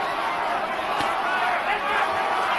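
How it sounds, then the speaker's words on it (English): Boxing arena crowd at a heavyweight bout, Holyfield versus Michael Moorer in 1997, a dense continuous roar of cheering and shouting that holds steady throughout without breaks. "The crowd trying to urge Holyfield on."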